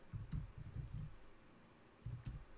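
Computer keyboard typing a ChatGPT prompt: soft, close key taps in two short bursts with a quiet gap between them, no voices.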